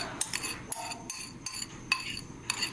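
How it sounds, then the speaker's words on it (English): Utensil scraping and clinking against a bowl while batter is mixed, a run of irregular near taps and scrapes repeating every half second or so, moderately loud with no talk. "Mixing it up."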